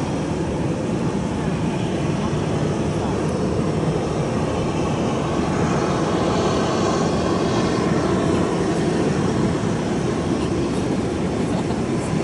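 Airplane at Chubu Centrair Airport, heard from the sky deck during takeoffs and landings, producing a loud, steady jet engine roar that fills the whole stretch without letting up.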